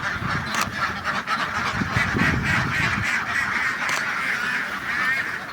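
Many ducks at a laying-duck farm in Rorotan honk and quack in a dense, continuous flock chorus, steady and fairly loud throughout.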